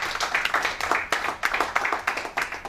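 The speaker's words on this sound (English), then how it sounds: "please give her a round of applause." A conference audience claps in uneven bursts, a fairly close, lively patter of hands with brief swells and dips across a few seconds.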